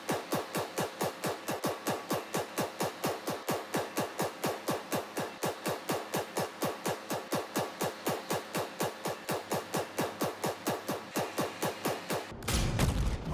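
Steady, evenly spaced shots from a weapon in the Star Citizen game are fired at the cockpit of a Gladius ship, a long rapid string of loud close reports ending in a short burst of impact noise.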